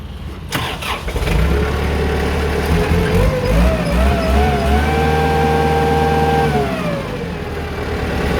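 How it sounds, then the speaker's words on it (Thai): A used Kubota L4508 diesel tractor engine, fitted with a front blade and a tiller, cranks and catches, then settles into a loud, steady chugging idle close by, with no talking. "เดี๋ยวเราลองสตาร์ทเครื่องยนต์ดูนะครับ"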